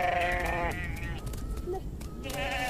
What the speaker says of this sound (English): sheep, and goats.